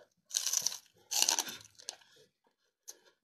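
Crisp, close crunching bites of raw celery topped with a vegan sauce, two loud bursts followed by quieter chewing crunches and a final short crunch, with no talking.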